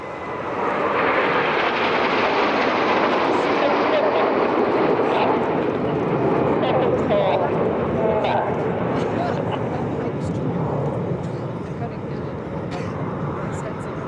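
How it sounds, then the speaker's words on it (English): RAF Red Arrows BAE Hawk jets flying past in formation at an EAA AirVenture airshow make a broad, sustained jet roar that swells and holds, with a voice talking over it. "As the aircraft arrive from the right-hand side, the aim of the first half of the show is to have all 7 aircraft move as one."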